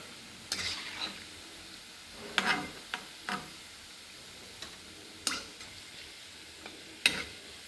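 Sweet banana vada frying in hot oil, a quiet steady sizzle broken by occasional sharp clicks and splutters as the fritters are stirred and turned.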